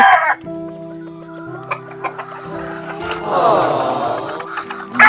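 Chickens offered for sale cluck close by in a brief, busy burst of fowl calls with a few louder squawks, amid steady background noise and no clear talk.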